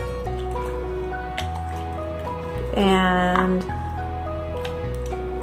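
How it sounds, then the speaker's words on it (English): A spoon stirs thick, gel-like homemade liquid laundry soap, giving a brief wet squelch partway through over steady background music. "all you have to do is just stir it with a spoon"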